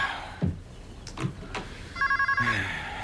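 A telephone ringing in a home, a short run of rapid bell pulses near the end, after a few soft knocks and movement sounds.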